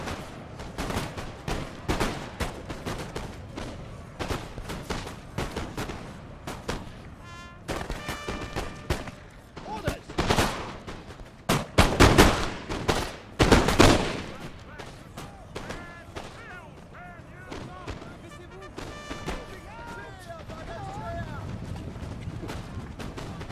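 Infantry lines in Napoleon Total War fire musket volleys, a dense crackle of shots with heavier booming bursts mid-way, loud and continuous with background battle noise.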